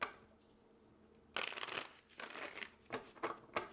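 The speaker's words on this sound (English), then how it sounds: "Now we're going to pull out cards for you and your person" Tarot cards shuffled by hand in several quick riffling bursts after a quiet pause, close and crisp, with no talking.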